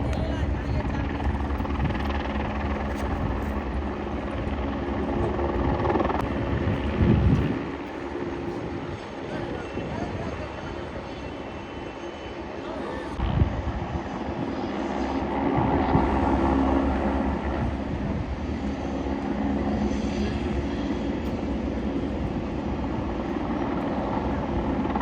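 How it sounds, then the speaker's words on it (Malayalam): A helicopter flies near the Kedarnath helipad in the Himalayan mountains of Uttarakhand, its rotor drone a steady, loud rumble that fills the whole stretch with slight swells in intensity. "ഹെലികോപ്റ്റർ പോകുന്നതാണ് നിങ്ങൾ കണ്ടുകൊണ്ടിരിക്കുന്നത്."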